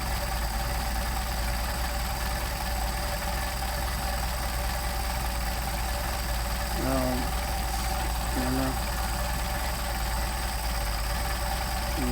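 A Mercedes 190SL engine with Solex 44PHH carburetors idles low and steady, a continuous even rumble with faint brief clicks partway through and no talking.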